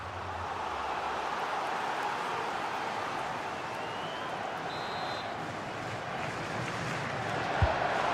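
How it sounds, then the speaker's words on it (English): A football stadium crowd roaring steadily to urge its team toward an equaliser, a dense, continuous wash of far-off voices and chants that holds at an even level throughout, with a commentator talking over it. "the crowd is certainly trying to motivate the players to get the equaliser"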